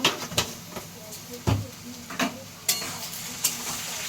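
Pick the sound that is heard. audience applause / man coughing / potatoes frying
potatoes frying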